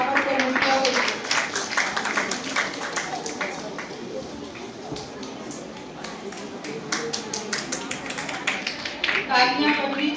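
Clapping from an audience at an Urdu program award ceremony where a college of education receives second prize, with a mix of scattered and fuller handclaps over room murmur and a voice speaking in the background.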